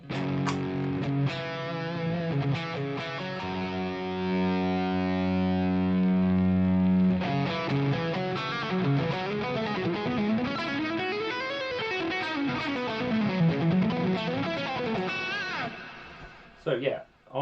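Electric guitar through a Line 6 Helix Orange Rockerverb 100 amp model, distorted crunchy chords and sliding lead lines played loud and close, ending in a brief pause and a few final hits.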